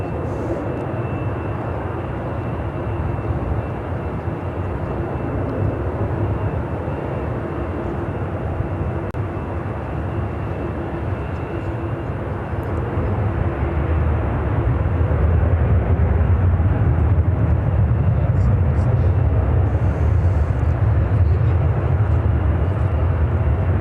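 Airliners, a Dreamliner among them, taxi at Chicago O'Hare airport, giving a steady, loud, broad rumble of jet engines that holds throughout and swells slightly toward the end, with no voices.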